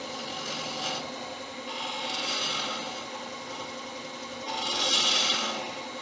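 Wood being cut down on a lathe gives a steady rasping, scraping whir that swells in three louder passes, close and alone with no talk.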